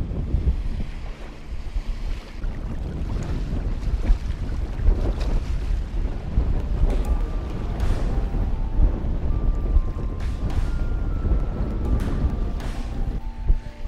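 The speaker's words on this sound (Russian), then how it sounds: "Только в этот раз ветер встречный." Strong headwind gusting across an open fishing boat on the water, a steady broadband roar of wind and waves with microphone buffeting, continuous and close throughout with no talk.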